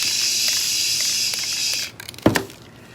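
A steady, fairly loud hiss of an aerosol can spraying acrylic onto a cast resin longhorn skull runs for about two seconds, then cuts off, followed by a couple of faint clicks and a soft thump.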